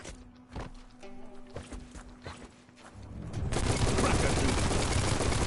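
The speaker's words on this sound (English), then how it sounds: "Bullets go burr." Gunfire from a big-magazine gun in the video game Biomutant erupts after a few seconds of quieter clicks and steps, becoming a dense, loud, sustained rapid-fire burst.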